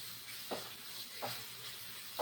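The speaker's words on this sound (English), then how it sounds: "Good sizzle, David." Ghana-style fried rice sizzles steadily in a hot pan, with three periodic stirring scrapes breaking through the constant frying hiss.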